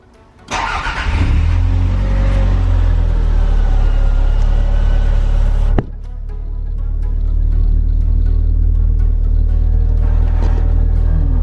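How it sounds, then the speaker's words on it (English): A Toyota Celica GT4 engine cranks and catches, then idles loud and close with a steady low rumble; the engine note dips sharply midway before settling back into an even idle, with no talking. "So let's turn on the car."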